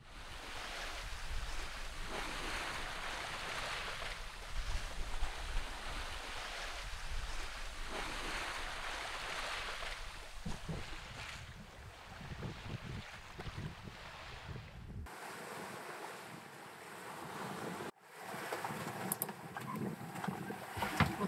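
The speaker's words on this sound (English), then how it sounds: "Hours can be spent just gazing at the endlessly rolling waves as they pass under the vessel on their" Ocean waves roll and wash beneath a sailing boat in the Tuamotu Archipelago, a steady broad surf rush mixed with wind noise across the microphone, sustained throughout with no talking.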